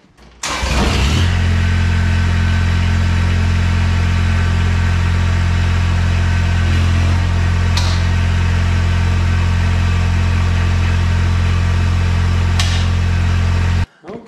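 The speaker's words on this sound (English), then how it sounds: "Okay, so now I'm ready to start the tractor and lift up the mower." A Kubota BX compact tractor engine cranks and fires, then settles into a loud, steady idle with a low throbbing drone close by, shutting off abruptly at the end.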